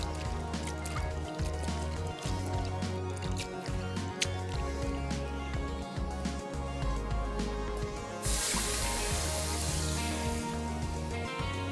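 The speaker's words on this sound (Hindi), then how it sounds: "प्याज को अच्छे तरीके से पानी के साथ धोना है" Chopped onions being washed with water in a kitchen, with close wet squishing, dripping and trickling that continues throughout and turns into a louder rushing splash near the end.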